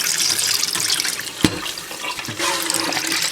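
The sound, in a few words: pouring excess water out of a container of soaked roving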